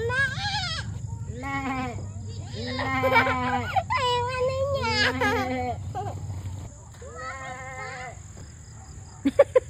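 Goats bleating repeatedly outdoors on a lot, several loud wavering cries in close succession, some overlapping, with a quieter pause and a few sharp knocks at the end.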